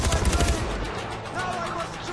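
A short burst of rapid gunfire from Far Cry 4, loud and close, the shots running together before fading into a wash of game noise.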